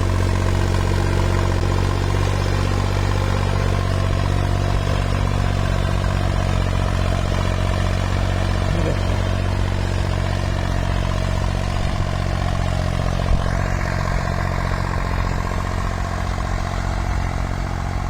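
Tractor engine running a sugarcane farm implement with both lifts lowered, a loud, steady idling drone with mechanical clatter that continues without pause.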